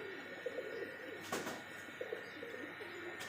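Pet pigeons coo softly while eating and drinking, low repeated coos at close range over a quiet background, with a couple of sharp clacks or flutters in between.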